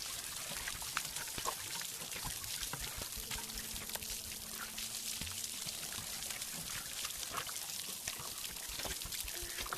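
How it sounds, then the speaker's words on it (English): Water pouring from a watering can onto plants in the VR game Garden of the Sea, a continuous splashing trickle at steady level, with faint soft tones in the background and no talk. "Let's water these."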